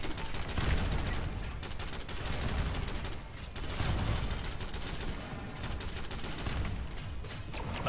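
Dense, continuous automatic gunfire from turrets and weapons in the video game SYNTHETIK, a sustained rattling barrage with overlapping shots and explosive bursts throughout, fairly loud and close, with no talking.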